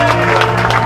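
Wedding guests applauding and cheering for the newlyweds, a brief, loud burst of dense clapping and crowd noise.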